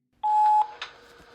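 A timer gives one sharp electronic beep, clear and close, and then the room goes quiet.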